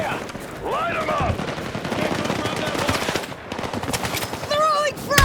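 Sustained automatic gunfire in a Battlefield 6 campaign sniper mission, loud and continuous bursts rattling over combat noise, with brief whistling sweeps at the start and end.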